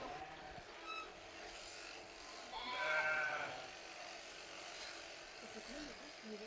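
Ewes bleat faintly during shearing amid steady farm noise. One clearer wavering bleat stands out midway, with brief calls earlier and a low background rumble throughout.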